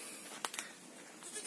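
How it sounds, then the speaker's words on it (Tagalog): Goats in a farm goat pen bleat in two or three short calls near the middle, over a steady background hiss, with another faint call toward the end. "Ito yung mga kambing niya."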